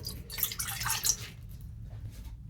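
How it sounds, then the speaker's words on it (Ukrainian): Warm water, about 200 ml, poured into a bowl as the start of a yeast starter for onion bread; a light splashing trickle up close for a couple of seconds, then it tapers off. "Беремо 200 мл теплої води"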